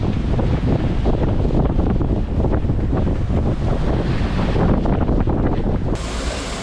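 Strong wind roars across the microphone with rushing waves and spray while a catamaran sails hard, 45 degrees off the wind in 26 knots with reefed mainsail and partly furled genoa, sailing from Malendure to Les Saintes; a steady, loud, unbroken blast.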